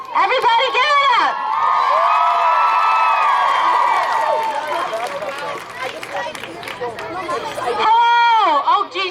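A large crowd at a student walkout rally for abortion rights cheers and shouts loudly and continuously, high excited voices and whoops blending into a sustained roar that eases slightly before swelling again.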